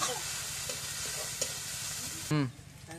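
Ginger garlic paste fries in a pan with a soft, steady sizzle, broken by a few light stirring clicks and one short, louder burst near the end.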